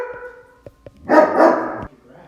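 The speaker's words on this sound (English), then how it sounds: "I apologize for those barking dogs." Dogs bark in a few sharp, close bursts: two brief yips, then a louder, longer double bark, ending with a faint whimper. A voice can be heard briefly at the start.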